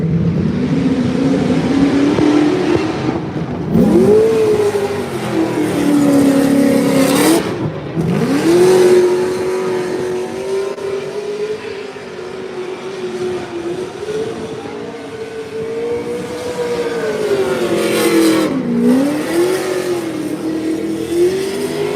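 A drift car at Formula Drift New Jersey ProSpec warmups runs laps, its engine loud and constant, repeatedly revving up and dropping in pitch through slides, alone without talk.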